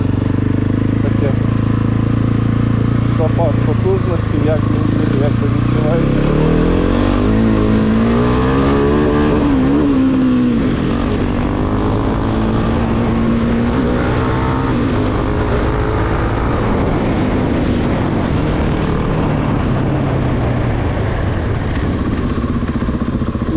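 Continuous engine drone from a Husqvarna 701 Supermoto single-cylinder, fuel-injected motorcycle being ridden, pitch rising and falling with speed, with wind noise and someone talking over it.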